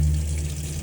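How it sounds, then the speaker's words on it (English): Water runs steadily from the cold tap of a Chausson 727GA motorhome with the onboard water pump switched on, a continuous gushing stream over a low, even pump hum, close and fairly loud, with no talking. "So I'll then turn the water pump switch on and come over to the tap and lift it up on the cold side."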